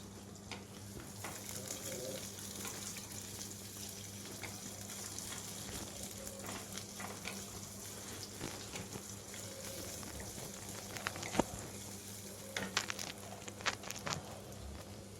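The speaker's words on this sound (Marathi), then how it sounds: "थोडंसंच भाजून द्यायचं ते पटकन त्यात कांदा टाकायचा" Onion sizzling and frying steadily in a hot pan as it is roasted, a continuous close crackle with occasional stirring scrapes and clicks, and a few sharper taps toward the end, no voices.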